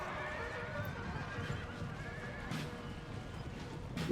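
Cavalry horses charge in the Napoleon Total War battle game, with loud whinnying and neighing over rapid clip-clop hoofbeats and a constant rumbling battlefield backdrop.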